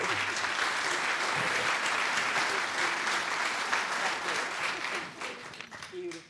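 Sustained crowd applause fills a hall at an annual meeting and legacy celebration, broad and even for several seconds before thinning toward the end, with faint voices under the clapping.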